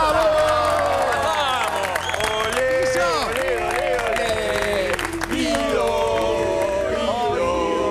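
Studio audience on a live Argentine morning talk show breaks into loud, sustained applause mixed with cheering and whoops, a dense crowd roar with voices rising through it for the full eight seconds.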